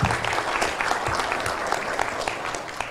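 A seated audience bursts into loud, close applause, a dense crackle of many hands that holds strong before easing slightly, with a murmur of the crowd beneath.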